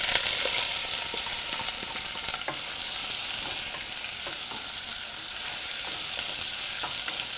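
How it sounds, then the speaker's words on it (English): Finely chopped onions saute in a hot pan, a steady bright sizzle with scattered soft scrapes of stirring, close and even throughout. "You can saute the onions."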